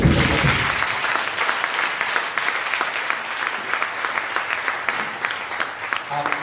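A church congregation at a Sunday service breaks into sustained, dense applause that fills the room. A brief voice comes at the very start, then steady clapping from many hands continues to the end.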